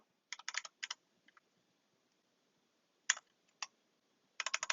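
A search being typed on a Mac computer keyboard, close and quiet: a few short clusters of crisp key clicks separated by silent gaps, with no voice.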